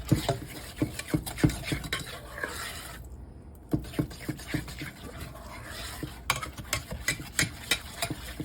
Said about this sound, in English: We're gonna stir that in.